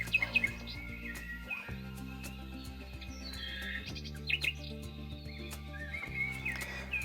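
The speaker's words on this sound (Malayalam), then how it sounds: "പക്ഷികളിൽ വെച്ചാൽ ഭയങ്കര കളകളാരവം അയ്യോ ഒരു രക്ഷയില്ലാത്ത സൗണ്ടാണ്" Many birds chirp and call together at the Kumarakom bird sanctuary, a busy chorus of varied tweets at moderate distance over a low steady drone, with no talk.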